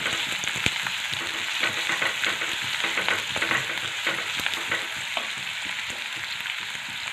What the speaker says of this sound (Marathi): कांदा आपल्याला छान लाल रंगावरती मस्त परतून घ्यायचं आहे